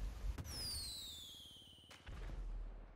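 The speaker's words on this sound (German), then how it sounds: "Nur hier nur im Hintergrund so dieses Feuerwerk da" Video game fireworks in GTA V whistle upward in bright rising streaks, with a few dull pops around them and a steady low rumble underneath, at a moderate distance.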